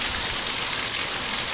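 A heavy night downpour in Dhari, Gujarat makes a dense, steady hiss of rain pouring down close by, loud and unbroken for the whole moment, with no talking.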